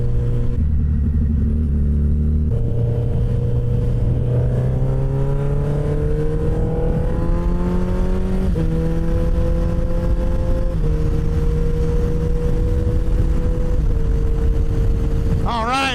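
A motorcycle rides through road traffic, its loud engine note rising steadily in pitch through the gears, with a shift partway through and a constant drone of wind and road noise.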